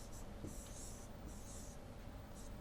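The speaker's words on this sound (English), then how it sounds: "So, let me draw the diagram." A pen or marker drawing a state diagram by hand during a finite automata lesson, giving soft scratchy strokes in several short bursts over a low steady room hum.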